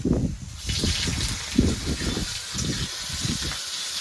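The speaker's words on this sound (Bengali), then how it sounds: "তেলটা গরম হয়ে গেছে এরপরে সয়াবিনগুলো ভেজে নেব" Soybean chunks frying in hot oil, a steady close hissing sizzle with bubbling pulses, fairly loud and continuous with no talk over it.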